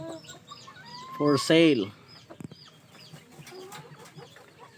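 Darag native chicken rooster from Iloilo gives a short burst of clucking calls up close, with a person talking around it.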